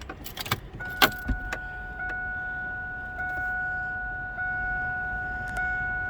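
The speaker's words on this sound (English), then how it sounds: "Then if I'll get in here and turn the key on so you can see the odometer." Keys jangle and the ignition of a 2002 Pontiac Trans Am WS6 clicks on, a few sharp close metallic clicks followed by steady electronic warning chimes or tones that hold over a low cabin hum.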